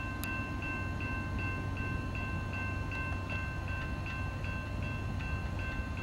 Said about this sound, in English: There's a ding-ding downer right here in Logan as the train running on the former Northern Pacific heads east.